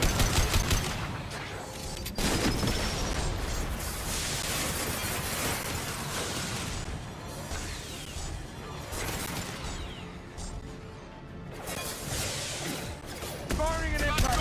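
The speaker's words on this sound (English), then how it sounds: "Firing an impact gun." Impact gun fire in the Mass Effect game, dense and continuous through the clip, with crackling shots, shattering hits and explosions layered under game audio and voices.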